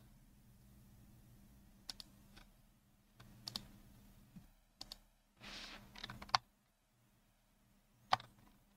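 Typing on a computer keyboard in Archicad 26: a handful of sharp, quiet key clicks come in small bursts separated by pauses, with one brief longer rustle in the middle, over a near-silent background.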